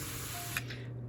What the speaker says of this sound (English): So the last thing I'm gonna do is give it a nice spray down